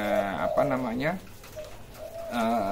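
A puter pelung dove gives a close, loud cooing call with wavering, drawn-out notes, then falls briefly quiet before starting another long coo.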